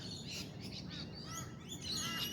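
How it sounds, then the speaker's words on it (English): Early morning birds north of Brisbane chirp and whistle in overlapping calls, several birds singing at once, moderately distant over a faint background hum. "Morning birds."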